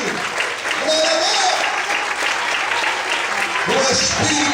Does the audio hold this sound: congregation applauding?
yes